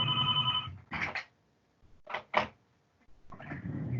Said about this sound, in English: can you believe that? I still have a landline phone.